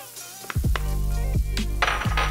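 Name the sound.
onions sizzling in melted butter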